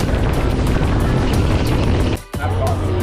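A three-engine speedboat crosses the open sea toward the Similan Islands, its engines and rushing water making a loud, steady roar that briefly drops away near the end before surging back.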